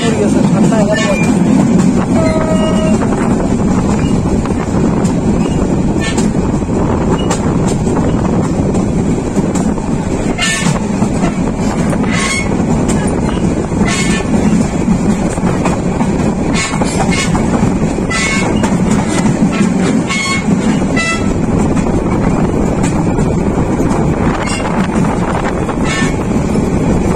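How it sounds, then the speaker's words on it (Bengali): A Chattala Express passenger train running from Dhaka to Chittagong rumbles steadily on the rails as it curves through a junction, with continuous loud rolling noise, wind buffeting and scattered clanks, and people talking intermittently over it. "ট্রেন এখন ঘুরতেছে"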